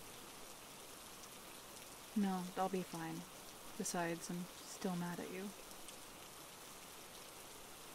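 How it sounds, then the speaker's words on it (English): Rain falls in a soft, steady hiss, faint and even, while a voice speaks over it for a few seconds in the middle. "The rain might get a little heavier"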